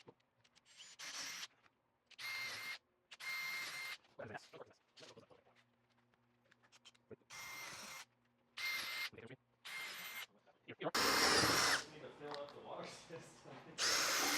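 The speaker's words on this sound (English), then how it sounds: "We're going to drill all these out to a 1/4-20" A power drill bores out holes to 1/4-20 on a bracket for shelving in a 2023 Ford Transit van build, running in several short bursts with pauses between and a longer, louder run near the end.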